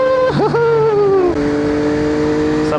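A Yamaha MT-09 crossplane-engine motorcycle with quick shift and auto blip roars loud and close, dipping sharply on quick shifts before settling into a sustained, rising engine drone.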